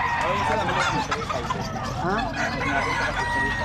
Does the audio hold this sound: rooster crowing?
yes